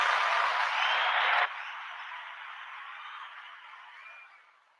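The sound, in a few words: round of applause for Alexa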